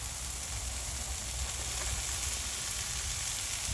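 Peas and carrots sizzle on a Blackstone griddle in a loud, constant close-up hiss of frying with no voices over it.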